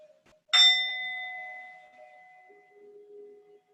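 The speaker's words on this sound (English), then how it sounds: "I'll ding a bell when we come out of a pose." A small bell, struck once to close a pose in a yin yoga class, rings out clearly alone in a quiet room, its bright tone slowly fading over a couple of seconds, followed by a faint low hum.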